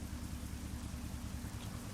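Steady rain in a truck driving game, a dense even hiss of drops drumming on a surface with a low rumble underneath, continuous and moderately loud with no voices.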